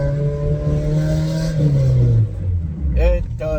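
An Acura Integra DC4 engine revs up through the gears, a rising, droning tone that climbs and drops with each shift, close and loud, with a voice talking over it near the end.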